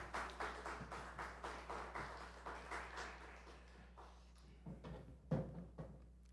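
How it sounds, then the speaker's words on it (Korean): A church congregation claps at a tenth-anniversary thanksgiving service, a faint run of rhythmic claps at an even pace that thins out near the end, with a low steady hum underneath. "하나님께 영광의 박수 드리십시다."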